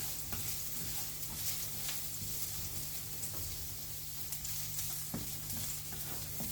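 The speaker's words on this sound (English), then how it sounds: "going to stir fry shallots and garlic first until it cook and get the fragrance from that." Shallots and garlic stir-frying in a pan for Thai pad thai with prawns, a steady dense sizzle with scattered scraping stirs and a low constant hum beneath, close and continuous with no talk.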